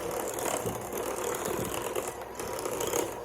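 Electric hand mixer whirring steadily through a crab cake mixture, a continuous mechanical grinding and rattling hum that stays close and even throughout, with no talking.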